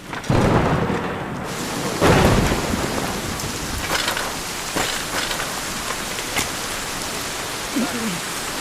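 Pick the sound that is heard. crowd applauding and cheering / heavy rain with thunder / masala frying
heavy rain with thunder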